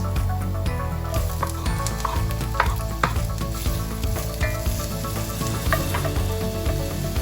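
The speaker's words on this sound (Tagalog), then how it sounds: "Saute the garlic until it's tender. And then the onions." Garlic and onions sautéing in a pan for Filipino lechon paksiw, a continuous loud sizzle with scattered crackles and stirring scrapes throughout, no voices.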